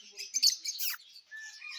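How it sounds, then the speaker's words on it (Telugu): Small parrots at a zoo give thin, high chirps and squawks in short bursts, fairly close and moderately loud with no talking. "ఇక్కడ మన చిలుకలు ఉన్నాయి, చిన్న చిన్న చిలుకలు."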